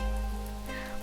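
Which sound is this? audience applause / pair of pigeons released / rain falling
rain falling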